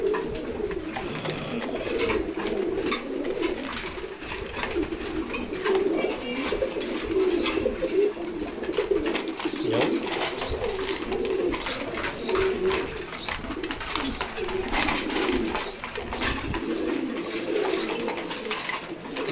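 Pigeons in a loft feeding, a flock of birds cooing continuously in low, overlapping murmurs with faint pecking and rustling around them, close and steady throughout.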